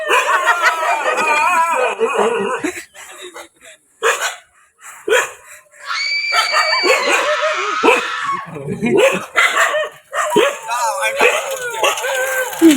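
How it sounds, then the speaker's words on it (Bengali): Several dogs bark and yip in bursts nearby, mixed with people talking over them. "দেখেন খালি ঘেউ করতেছে কিন্তু"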